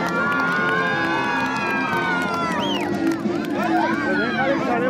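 A crowd of children and adults cheers and shouts excitedly at a first birthday party during a magic trick, with bright voices rising over a steady babble.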